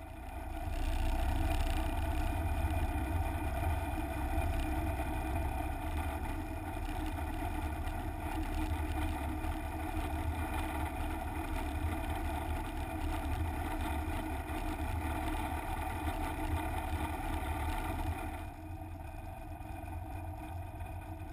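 An M29 Weasel amphibious tracked vehicle, a small steel military craft, floats on water with its engine droning steadily and loudly close by, a continuous low rumble that eases slightly near the end.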